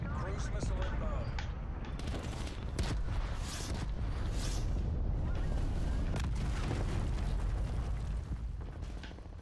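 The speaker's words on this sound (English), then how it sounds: "What's the explosion?" Explosions in the Call of Duty video game, a dense run of booming blasts and sharp bursts with cruise-missile-style impacts, loud and continuous throughout the stretch.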